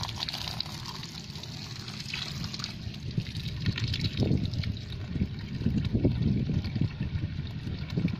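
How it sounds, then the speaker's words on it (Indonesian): Water pours and trickles steadily into the soil of a potted rose apple tree after root pruning, with sloshing and gurgling bursts, close by and fairly quiet. "seperti ini kita siram full ya"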